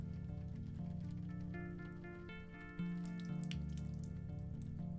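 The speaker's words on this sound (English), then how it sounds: "pour the jug of water on his head" Water from a jug poured onto a man's head in a video game, a soft continuous splash and trickle heard quietly over a low sustained musical drone.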